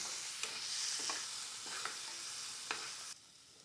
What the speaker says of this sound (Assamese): মটৰখিনি মছলাৰ সৈতে অকণমান সময় ভাজি ল'ম।